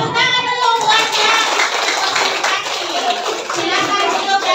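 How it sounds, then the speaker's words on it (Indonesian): A group of people, likely children in a school class activity, clap their hands together in a brisk burst of irregular claps that fills the room, with voices mixed in. "tepuk tangan dulu buatnya"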